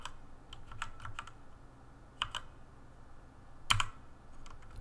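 Keys clatter on a compact computer keyboard in sparse, irregular taps and short clusters, close up and fairly quiet, with one louder burst of strokes near the end.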